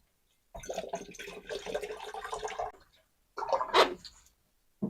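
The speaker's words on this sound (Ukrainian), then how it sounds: "Заливаю 900 мл дистильованої води." Distilled water is poured into an AGM battery in two gurgling bursts, a longer steady pour followed by a shorter splashing one, close up with quiet gaps between.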